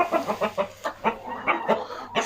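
A broody farm hen kept outside without a rooster clucks in a steady run of soft, evenly spaced clucks, close by and alone.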